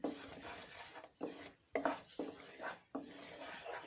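Thick caramelized jaggery for peanut chikki being stirred in a pan over a low flame, heard as several scraping, rubbing strokes of a utensil against metal with brief pauses between them.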